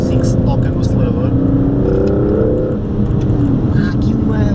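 A 2017 Aston Martin DB11 with a 600 hp twin-turbo V12 accelerates in sport mode, a loud, smooth low engine drone rising in pitch, heard from inside the car under continuous talk.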